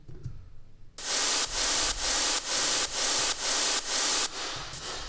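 Harsh, crunchy white noise distorted with a Camel Crusher plugin blasts in loud bursts pulsing in a steady rhythm, preceded by a quieter rumbling stretch, with no voices.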